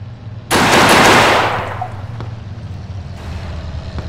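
Sustained rapid automatic gunfire in the World War II shooter Arma 3 Ironfront 1944, a loud close burst lasting about a second before the magazine runs dry, leaving a fading echo and quiet background.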